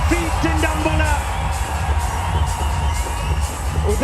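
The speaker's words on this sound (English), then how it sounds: "As the crowd are on their feet in Dambulla." A cricket crowd at Dambulla roars and whoops after a catch in a women's Asia Cup semi-final between Sri Lanka and Pakistan, a dense, sustained wall of cheering with shrill individual shouts rising above it.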